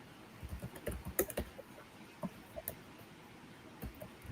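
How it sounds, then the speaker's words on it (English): Quiet, irregular bursts of typing on a computer keyboard, soft clicks in uneven clusters with short pauses between, close but low in level, with no voices. "You typing to me?"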